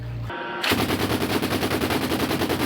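Rapid, loud bursts of machine-gun fire from a combat vehicle in a steady rhythm, preceded by a short mechanical hum, close and continuous.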